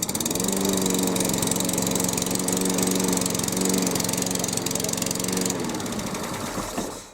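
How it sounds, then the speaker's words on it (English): A Hyundai HYM430SPE petrol lawnmower engine runs steadily and loudly up close, a constant droning rumble that cuts out near the end when the handle is released. "start the lawnmower."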